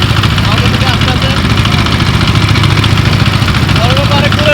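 A small wooden fishing boat's engine chugs steadily and loudly throughout, a continuous low idling drone with faint bird-like chirps above it.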